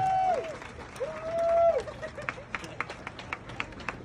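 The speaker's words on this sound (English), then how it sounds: "give a round of applause for brother Shamann Walton" An audience claps and whoops to welcome Shamann Walton at a Sunday gathering with the faith-based community. A rising whistle-like cheer leads into scattered, steady claps that carry on to the end.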